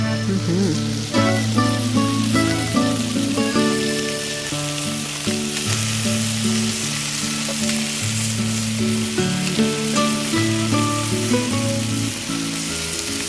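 Tomatoes sizzling on a small tabletop grill in an RV kitchen, a steady loud frying hiss with crackles running throughout, close and without talk.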